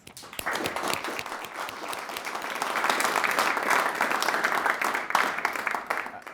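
An audience at a rural Alaska fisheries panel event breaks into a steady round of applause, broadband clapping rising slightly and holding for several seconds, fairly close and dense, with faint voices underneath.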